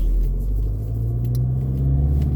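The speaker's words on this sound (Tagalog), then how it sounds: "Daming sasakyan ngayon." Steady road traffic on a busy street, a continuous low rumble of car engines and tires passing nearby with no talk over it.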